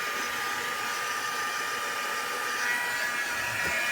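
A hand-held dryer blows over a junk planner page, a loud continuous whooshing whine that holds steady from start to finish.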